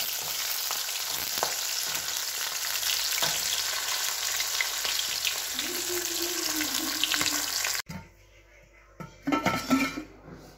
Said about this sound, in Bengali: এখানে পাবদা মাছগুলো মশলা দিয়ে ভাজা করছি